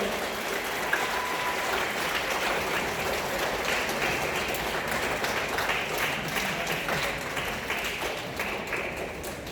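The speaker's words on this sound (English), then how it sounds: "Give your parents a round of applause for all of their support." Parents at a sixth-grade spring school band concert receive a steady round of applause from the audience, a continuous wash of clapping that sounds moderately distant and even from start to finish.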